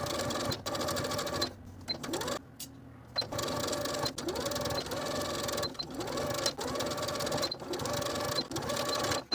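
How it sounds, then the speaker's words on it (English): A sewing machine stitches close to a tucked-under folded edge on a jacket, its motor whirring steadily in bursts with brief pauses between runs, close and fairly loud, with no talking. "we're going to take it to the sewing machine and sew close to that tucked under folded edge all the way across"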